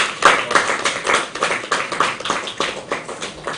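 An audience at a Ghanaian press announcement claps, a steady, moderately loud round of applause with distinct individual hand claps, no voices over it.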